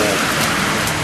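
Steady rain falls and patters on surfaces outside a primary school in Kilkis, a dense, loud hiss that stays constant throughout.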